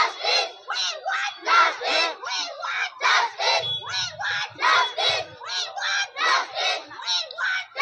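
A crowd of women chanting protest slogans in unison while marching in the street, loud rhythmic call-and-response bursts repeating steadily, with a brief low rumble in the background midway.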